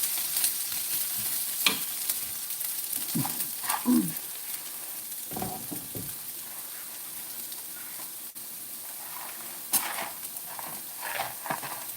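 Liver browning in a pan, with a steady sizzling hiss throughout and occasional scraping stirs and clinks of a utensil; no talking.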